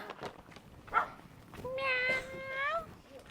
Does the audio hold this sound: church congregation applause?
no